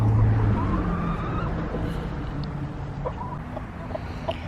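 Chickens cluck and chirp softly amid a steady outdoor background rumble in Dallas, Texas, with scattered short calls throughout.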